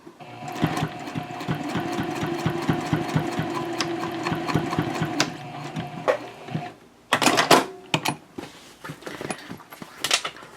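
Sewing machine top-stitching a messenger handbag: a fast, rhythmic mechanical chatter of stitches running steadily, then stopping, followed by a few short, sharp clicks and bursts of handling noise close up.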